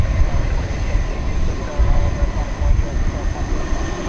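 An airliner, a Frontier 737-800, takes off at night from DFW airport on a windy evening, a loud, broad roaring rumble under faint radio chatter.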